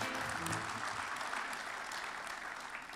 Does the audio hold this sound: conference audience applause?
yes